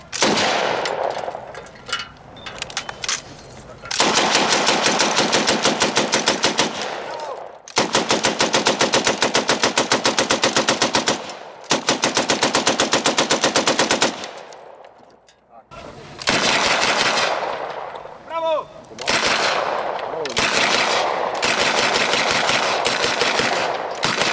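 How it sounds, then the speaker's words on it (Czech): Machine guns fire in long, loud, rapid bursts separated by brief pauses, with occasional voices calling out between volleys. "Kulomet připravil ke střelbě"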